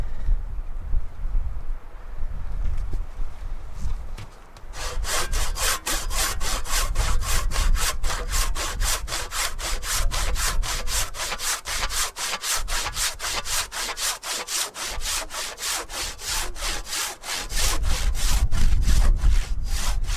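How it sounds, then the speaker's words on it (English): A Bahco saw cuts through hard chestnut wood outdoors in winter. Faint rubbing comes first, then about fifteen seconds of fast, steady back-and-forth rasping strokes, close and loud, with wind noise underneath. "Especially on this hard chestnut, especially on the hard chestnut, it just glides through that."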